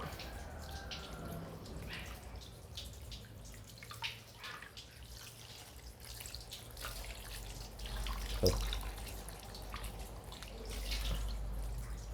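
Pig large intestines are washed under a running tap, with continuous splashing and trickling water, some wet handling noises, and a brief clunk in the middle.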